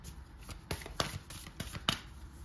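Tarot cards being shuffled by hand, several quick crisp riffling bursts in an uneven rhythm, close and moderately quiet.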